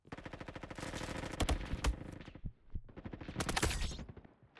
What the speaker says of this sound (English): Boom, I shot a guy.